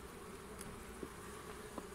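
Solitary bees buzz faintly around their nest, a soft, thin drone under a quiet outdoor background with a couple of brief closer passes; no one speaks.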